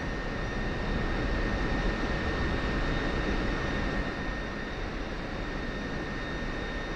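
An F-16 Viper jet taxiing after landing in a flight simulator game, a steady broadband engine roar with a faint high whine, constant and unbroken throughout.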